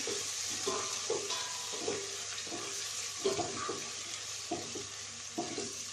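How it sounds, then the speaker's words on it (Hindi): Ginger garlic paste frying in a pan for Punjabi kadhi pakora, a soft sizzle running under a series of short scraping stirs that come every half second or so, with no one speaking. "अब इसके अंदर जिंजर गार्लिक पेस्ट डाल देंगे और इसे इतनी देर पकाना है कि लहसुन अदरक का कच्चापन खत्म हो जाए"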